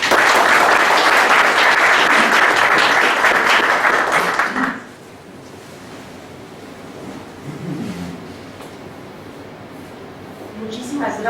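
An audience at a law faculty lecture claps to welcome a doctor to the podium. The applause is loud and dense for about five seconds, then stops sharply, and faint voices and room noise follow.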